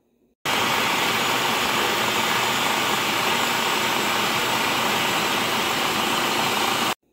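A food processor runs on high, blending basil pesto in a kitchen with a steady, loud whirring roar that starts abruptly and holds constant for several seconds before cutting off.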